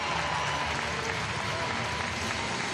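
A large live crowd at the 2024 Rogue Invitational strongman competition roars and applauds steadily for Scottish strongman Luke Stoltman, a dense, continuous wash of clapping and cheering with a voice faintly underneath.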